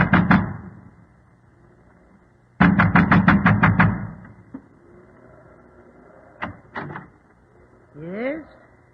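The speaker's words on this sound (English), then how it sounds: "was pounding at the door of the" A man wrapped in an oilskin and gigantic boots pounds at a windmill door on a stormy coast: an opening knock burst, then a loud, rapid run of heavy blows, then a few scattered thuds, in an old radio drama.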